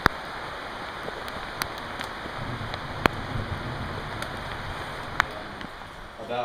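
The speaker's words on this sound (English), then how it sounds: "it was pouring rain the whole time" Pouring rain falls steadily outdoors during an urban hunt, a soft continuous wash with a few sharp clicks and knocks on top.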